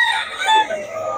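A rooster crows at a Bocaue game fowl market where stags are being sold, a single loud strained call lasting about a second, close by and without talk over it.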